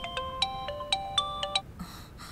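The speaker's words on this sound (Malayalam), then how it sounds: "ദാ ഫോൺ വന്നു" A mobile phone ringtone plays a bright electronic melody of repeated, evenly spaced tones for about a second and a half, then stops, leaving quiet room sound.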